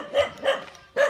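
A farm dog barks three times in quick succession, sharp and fairly close, with short pauses between the barks and no one talking.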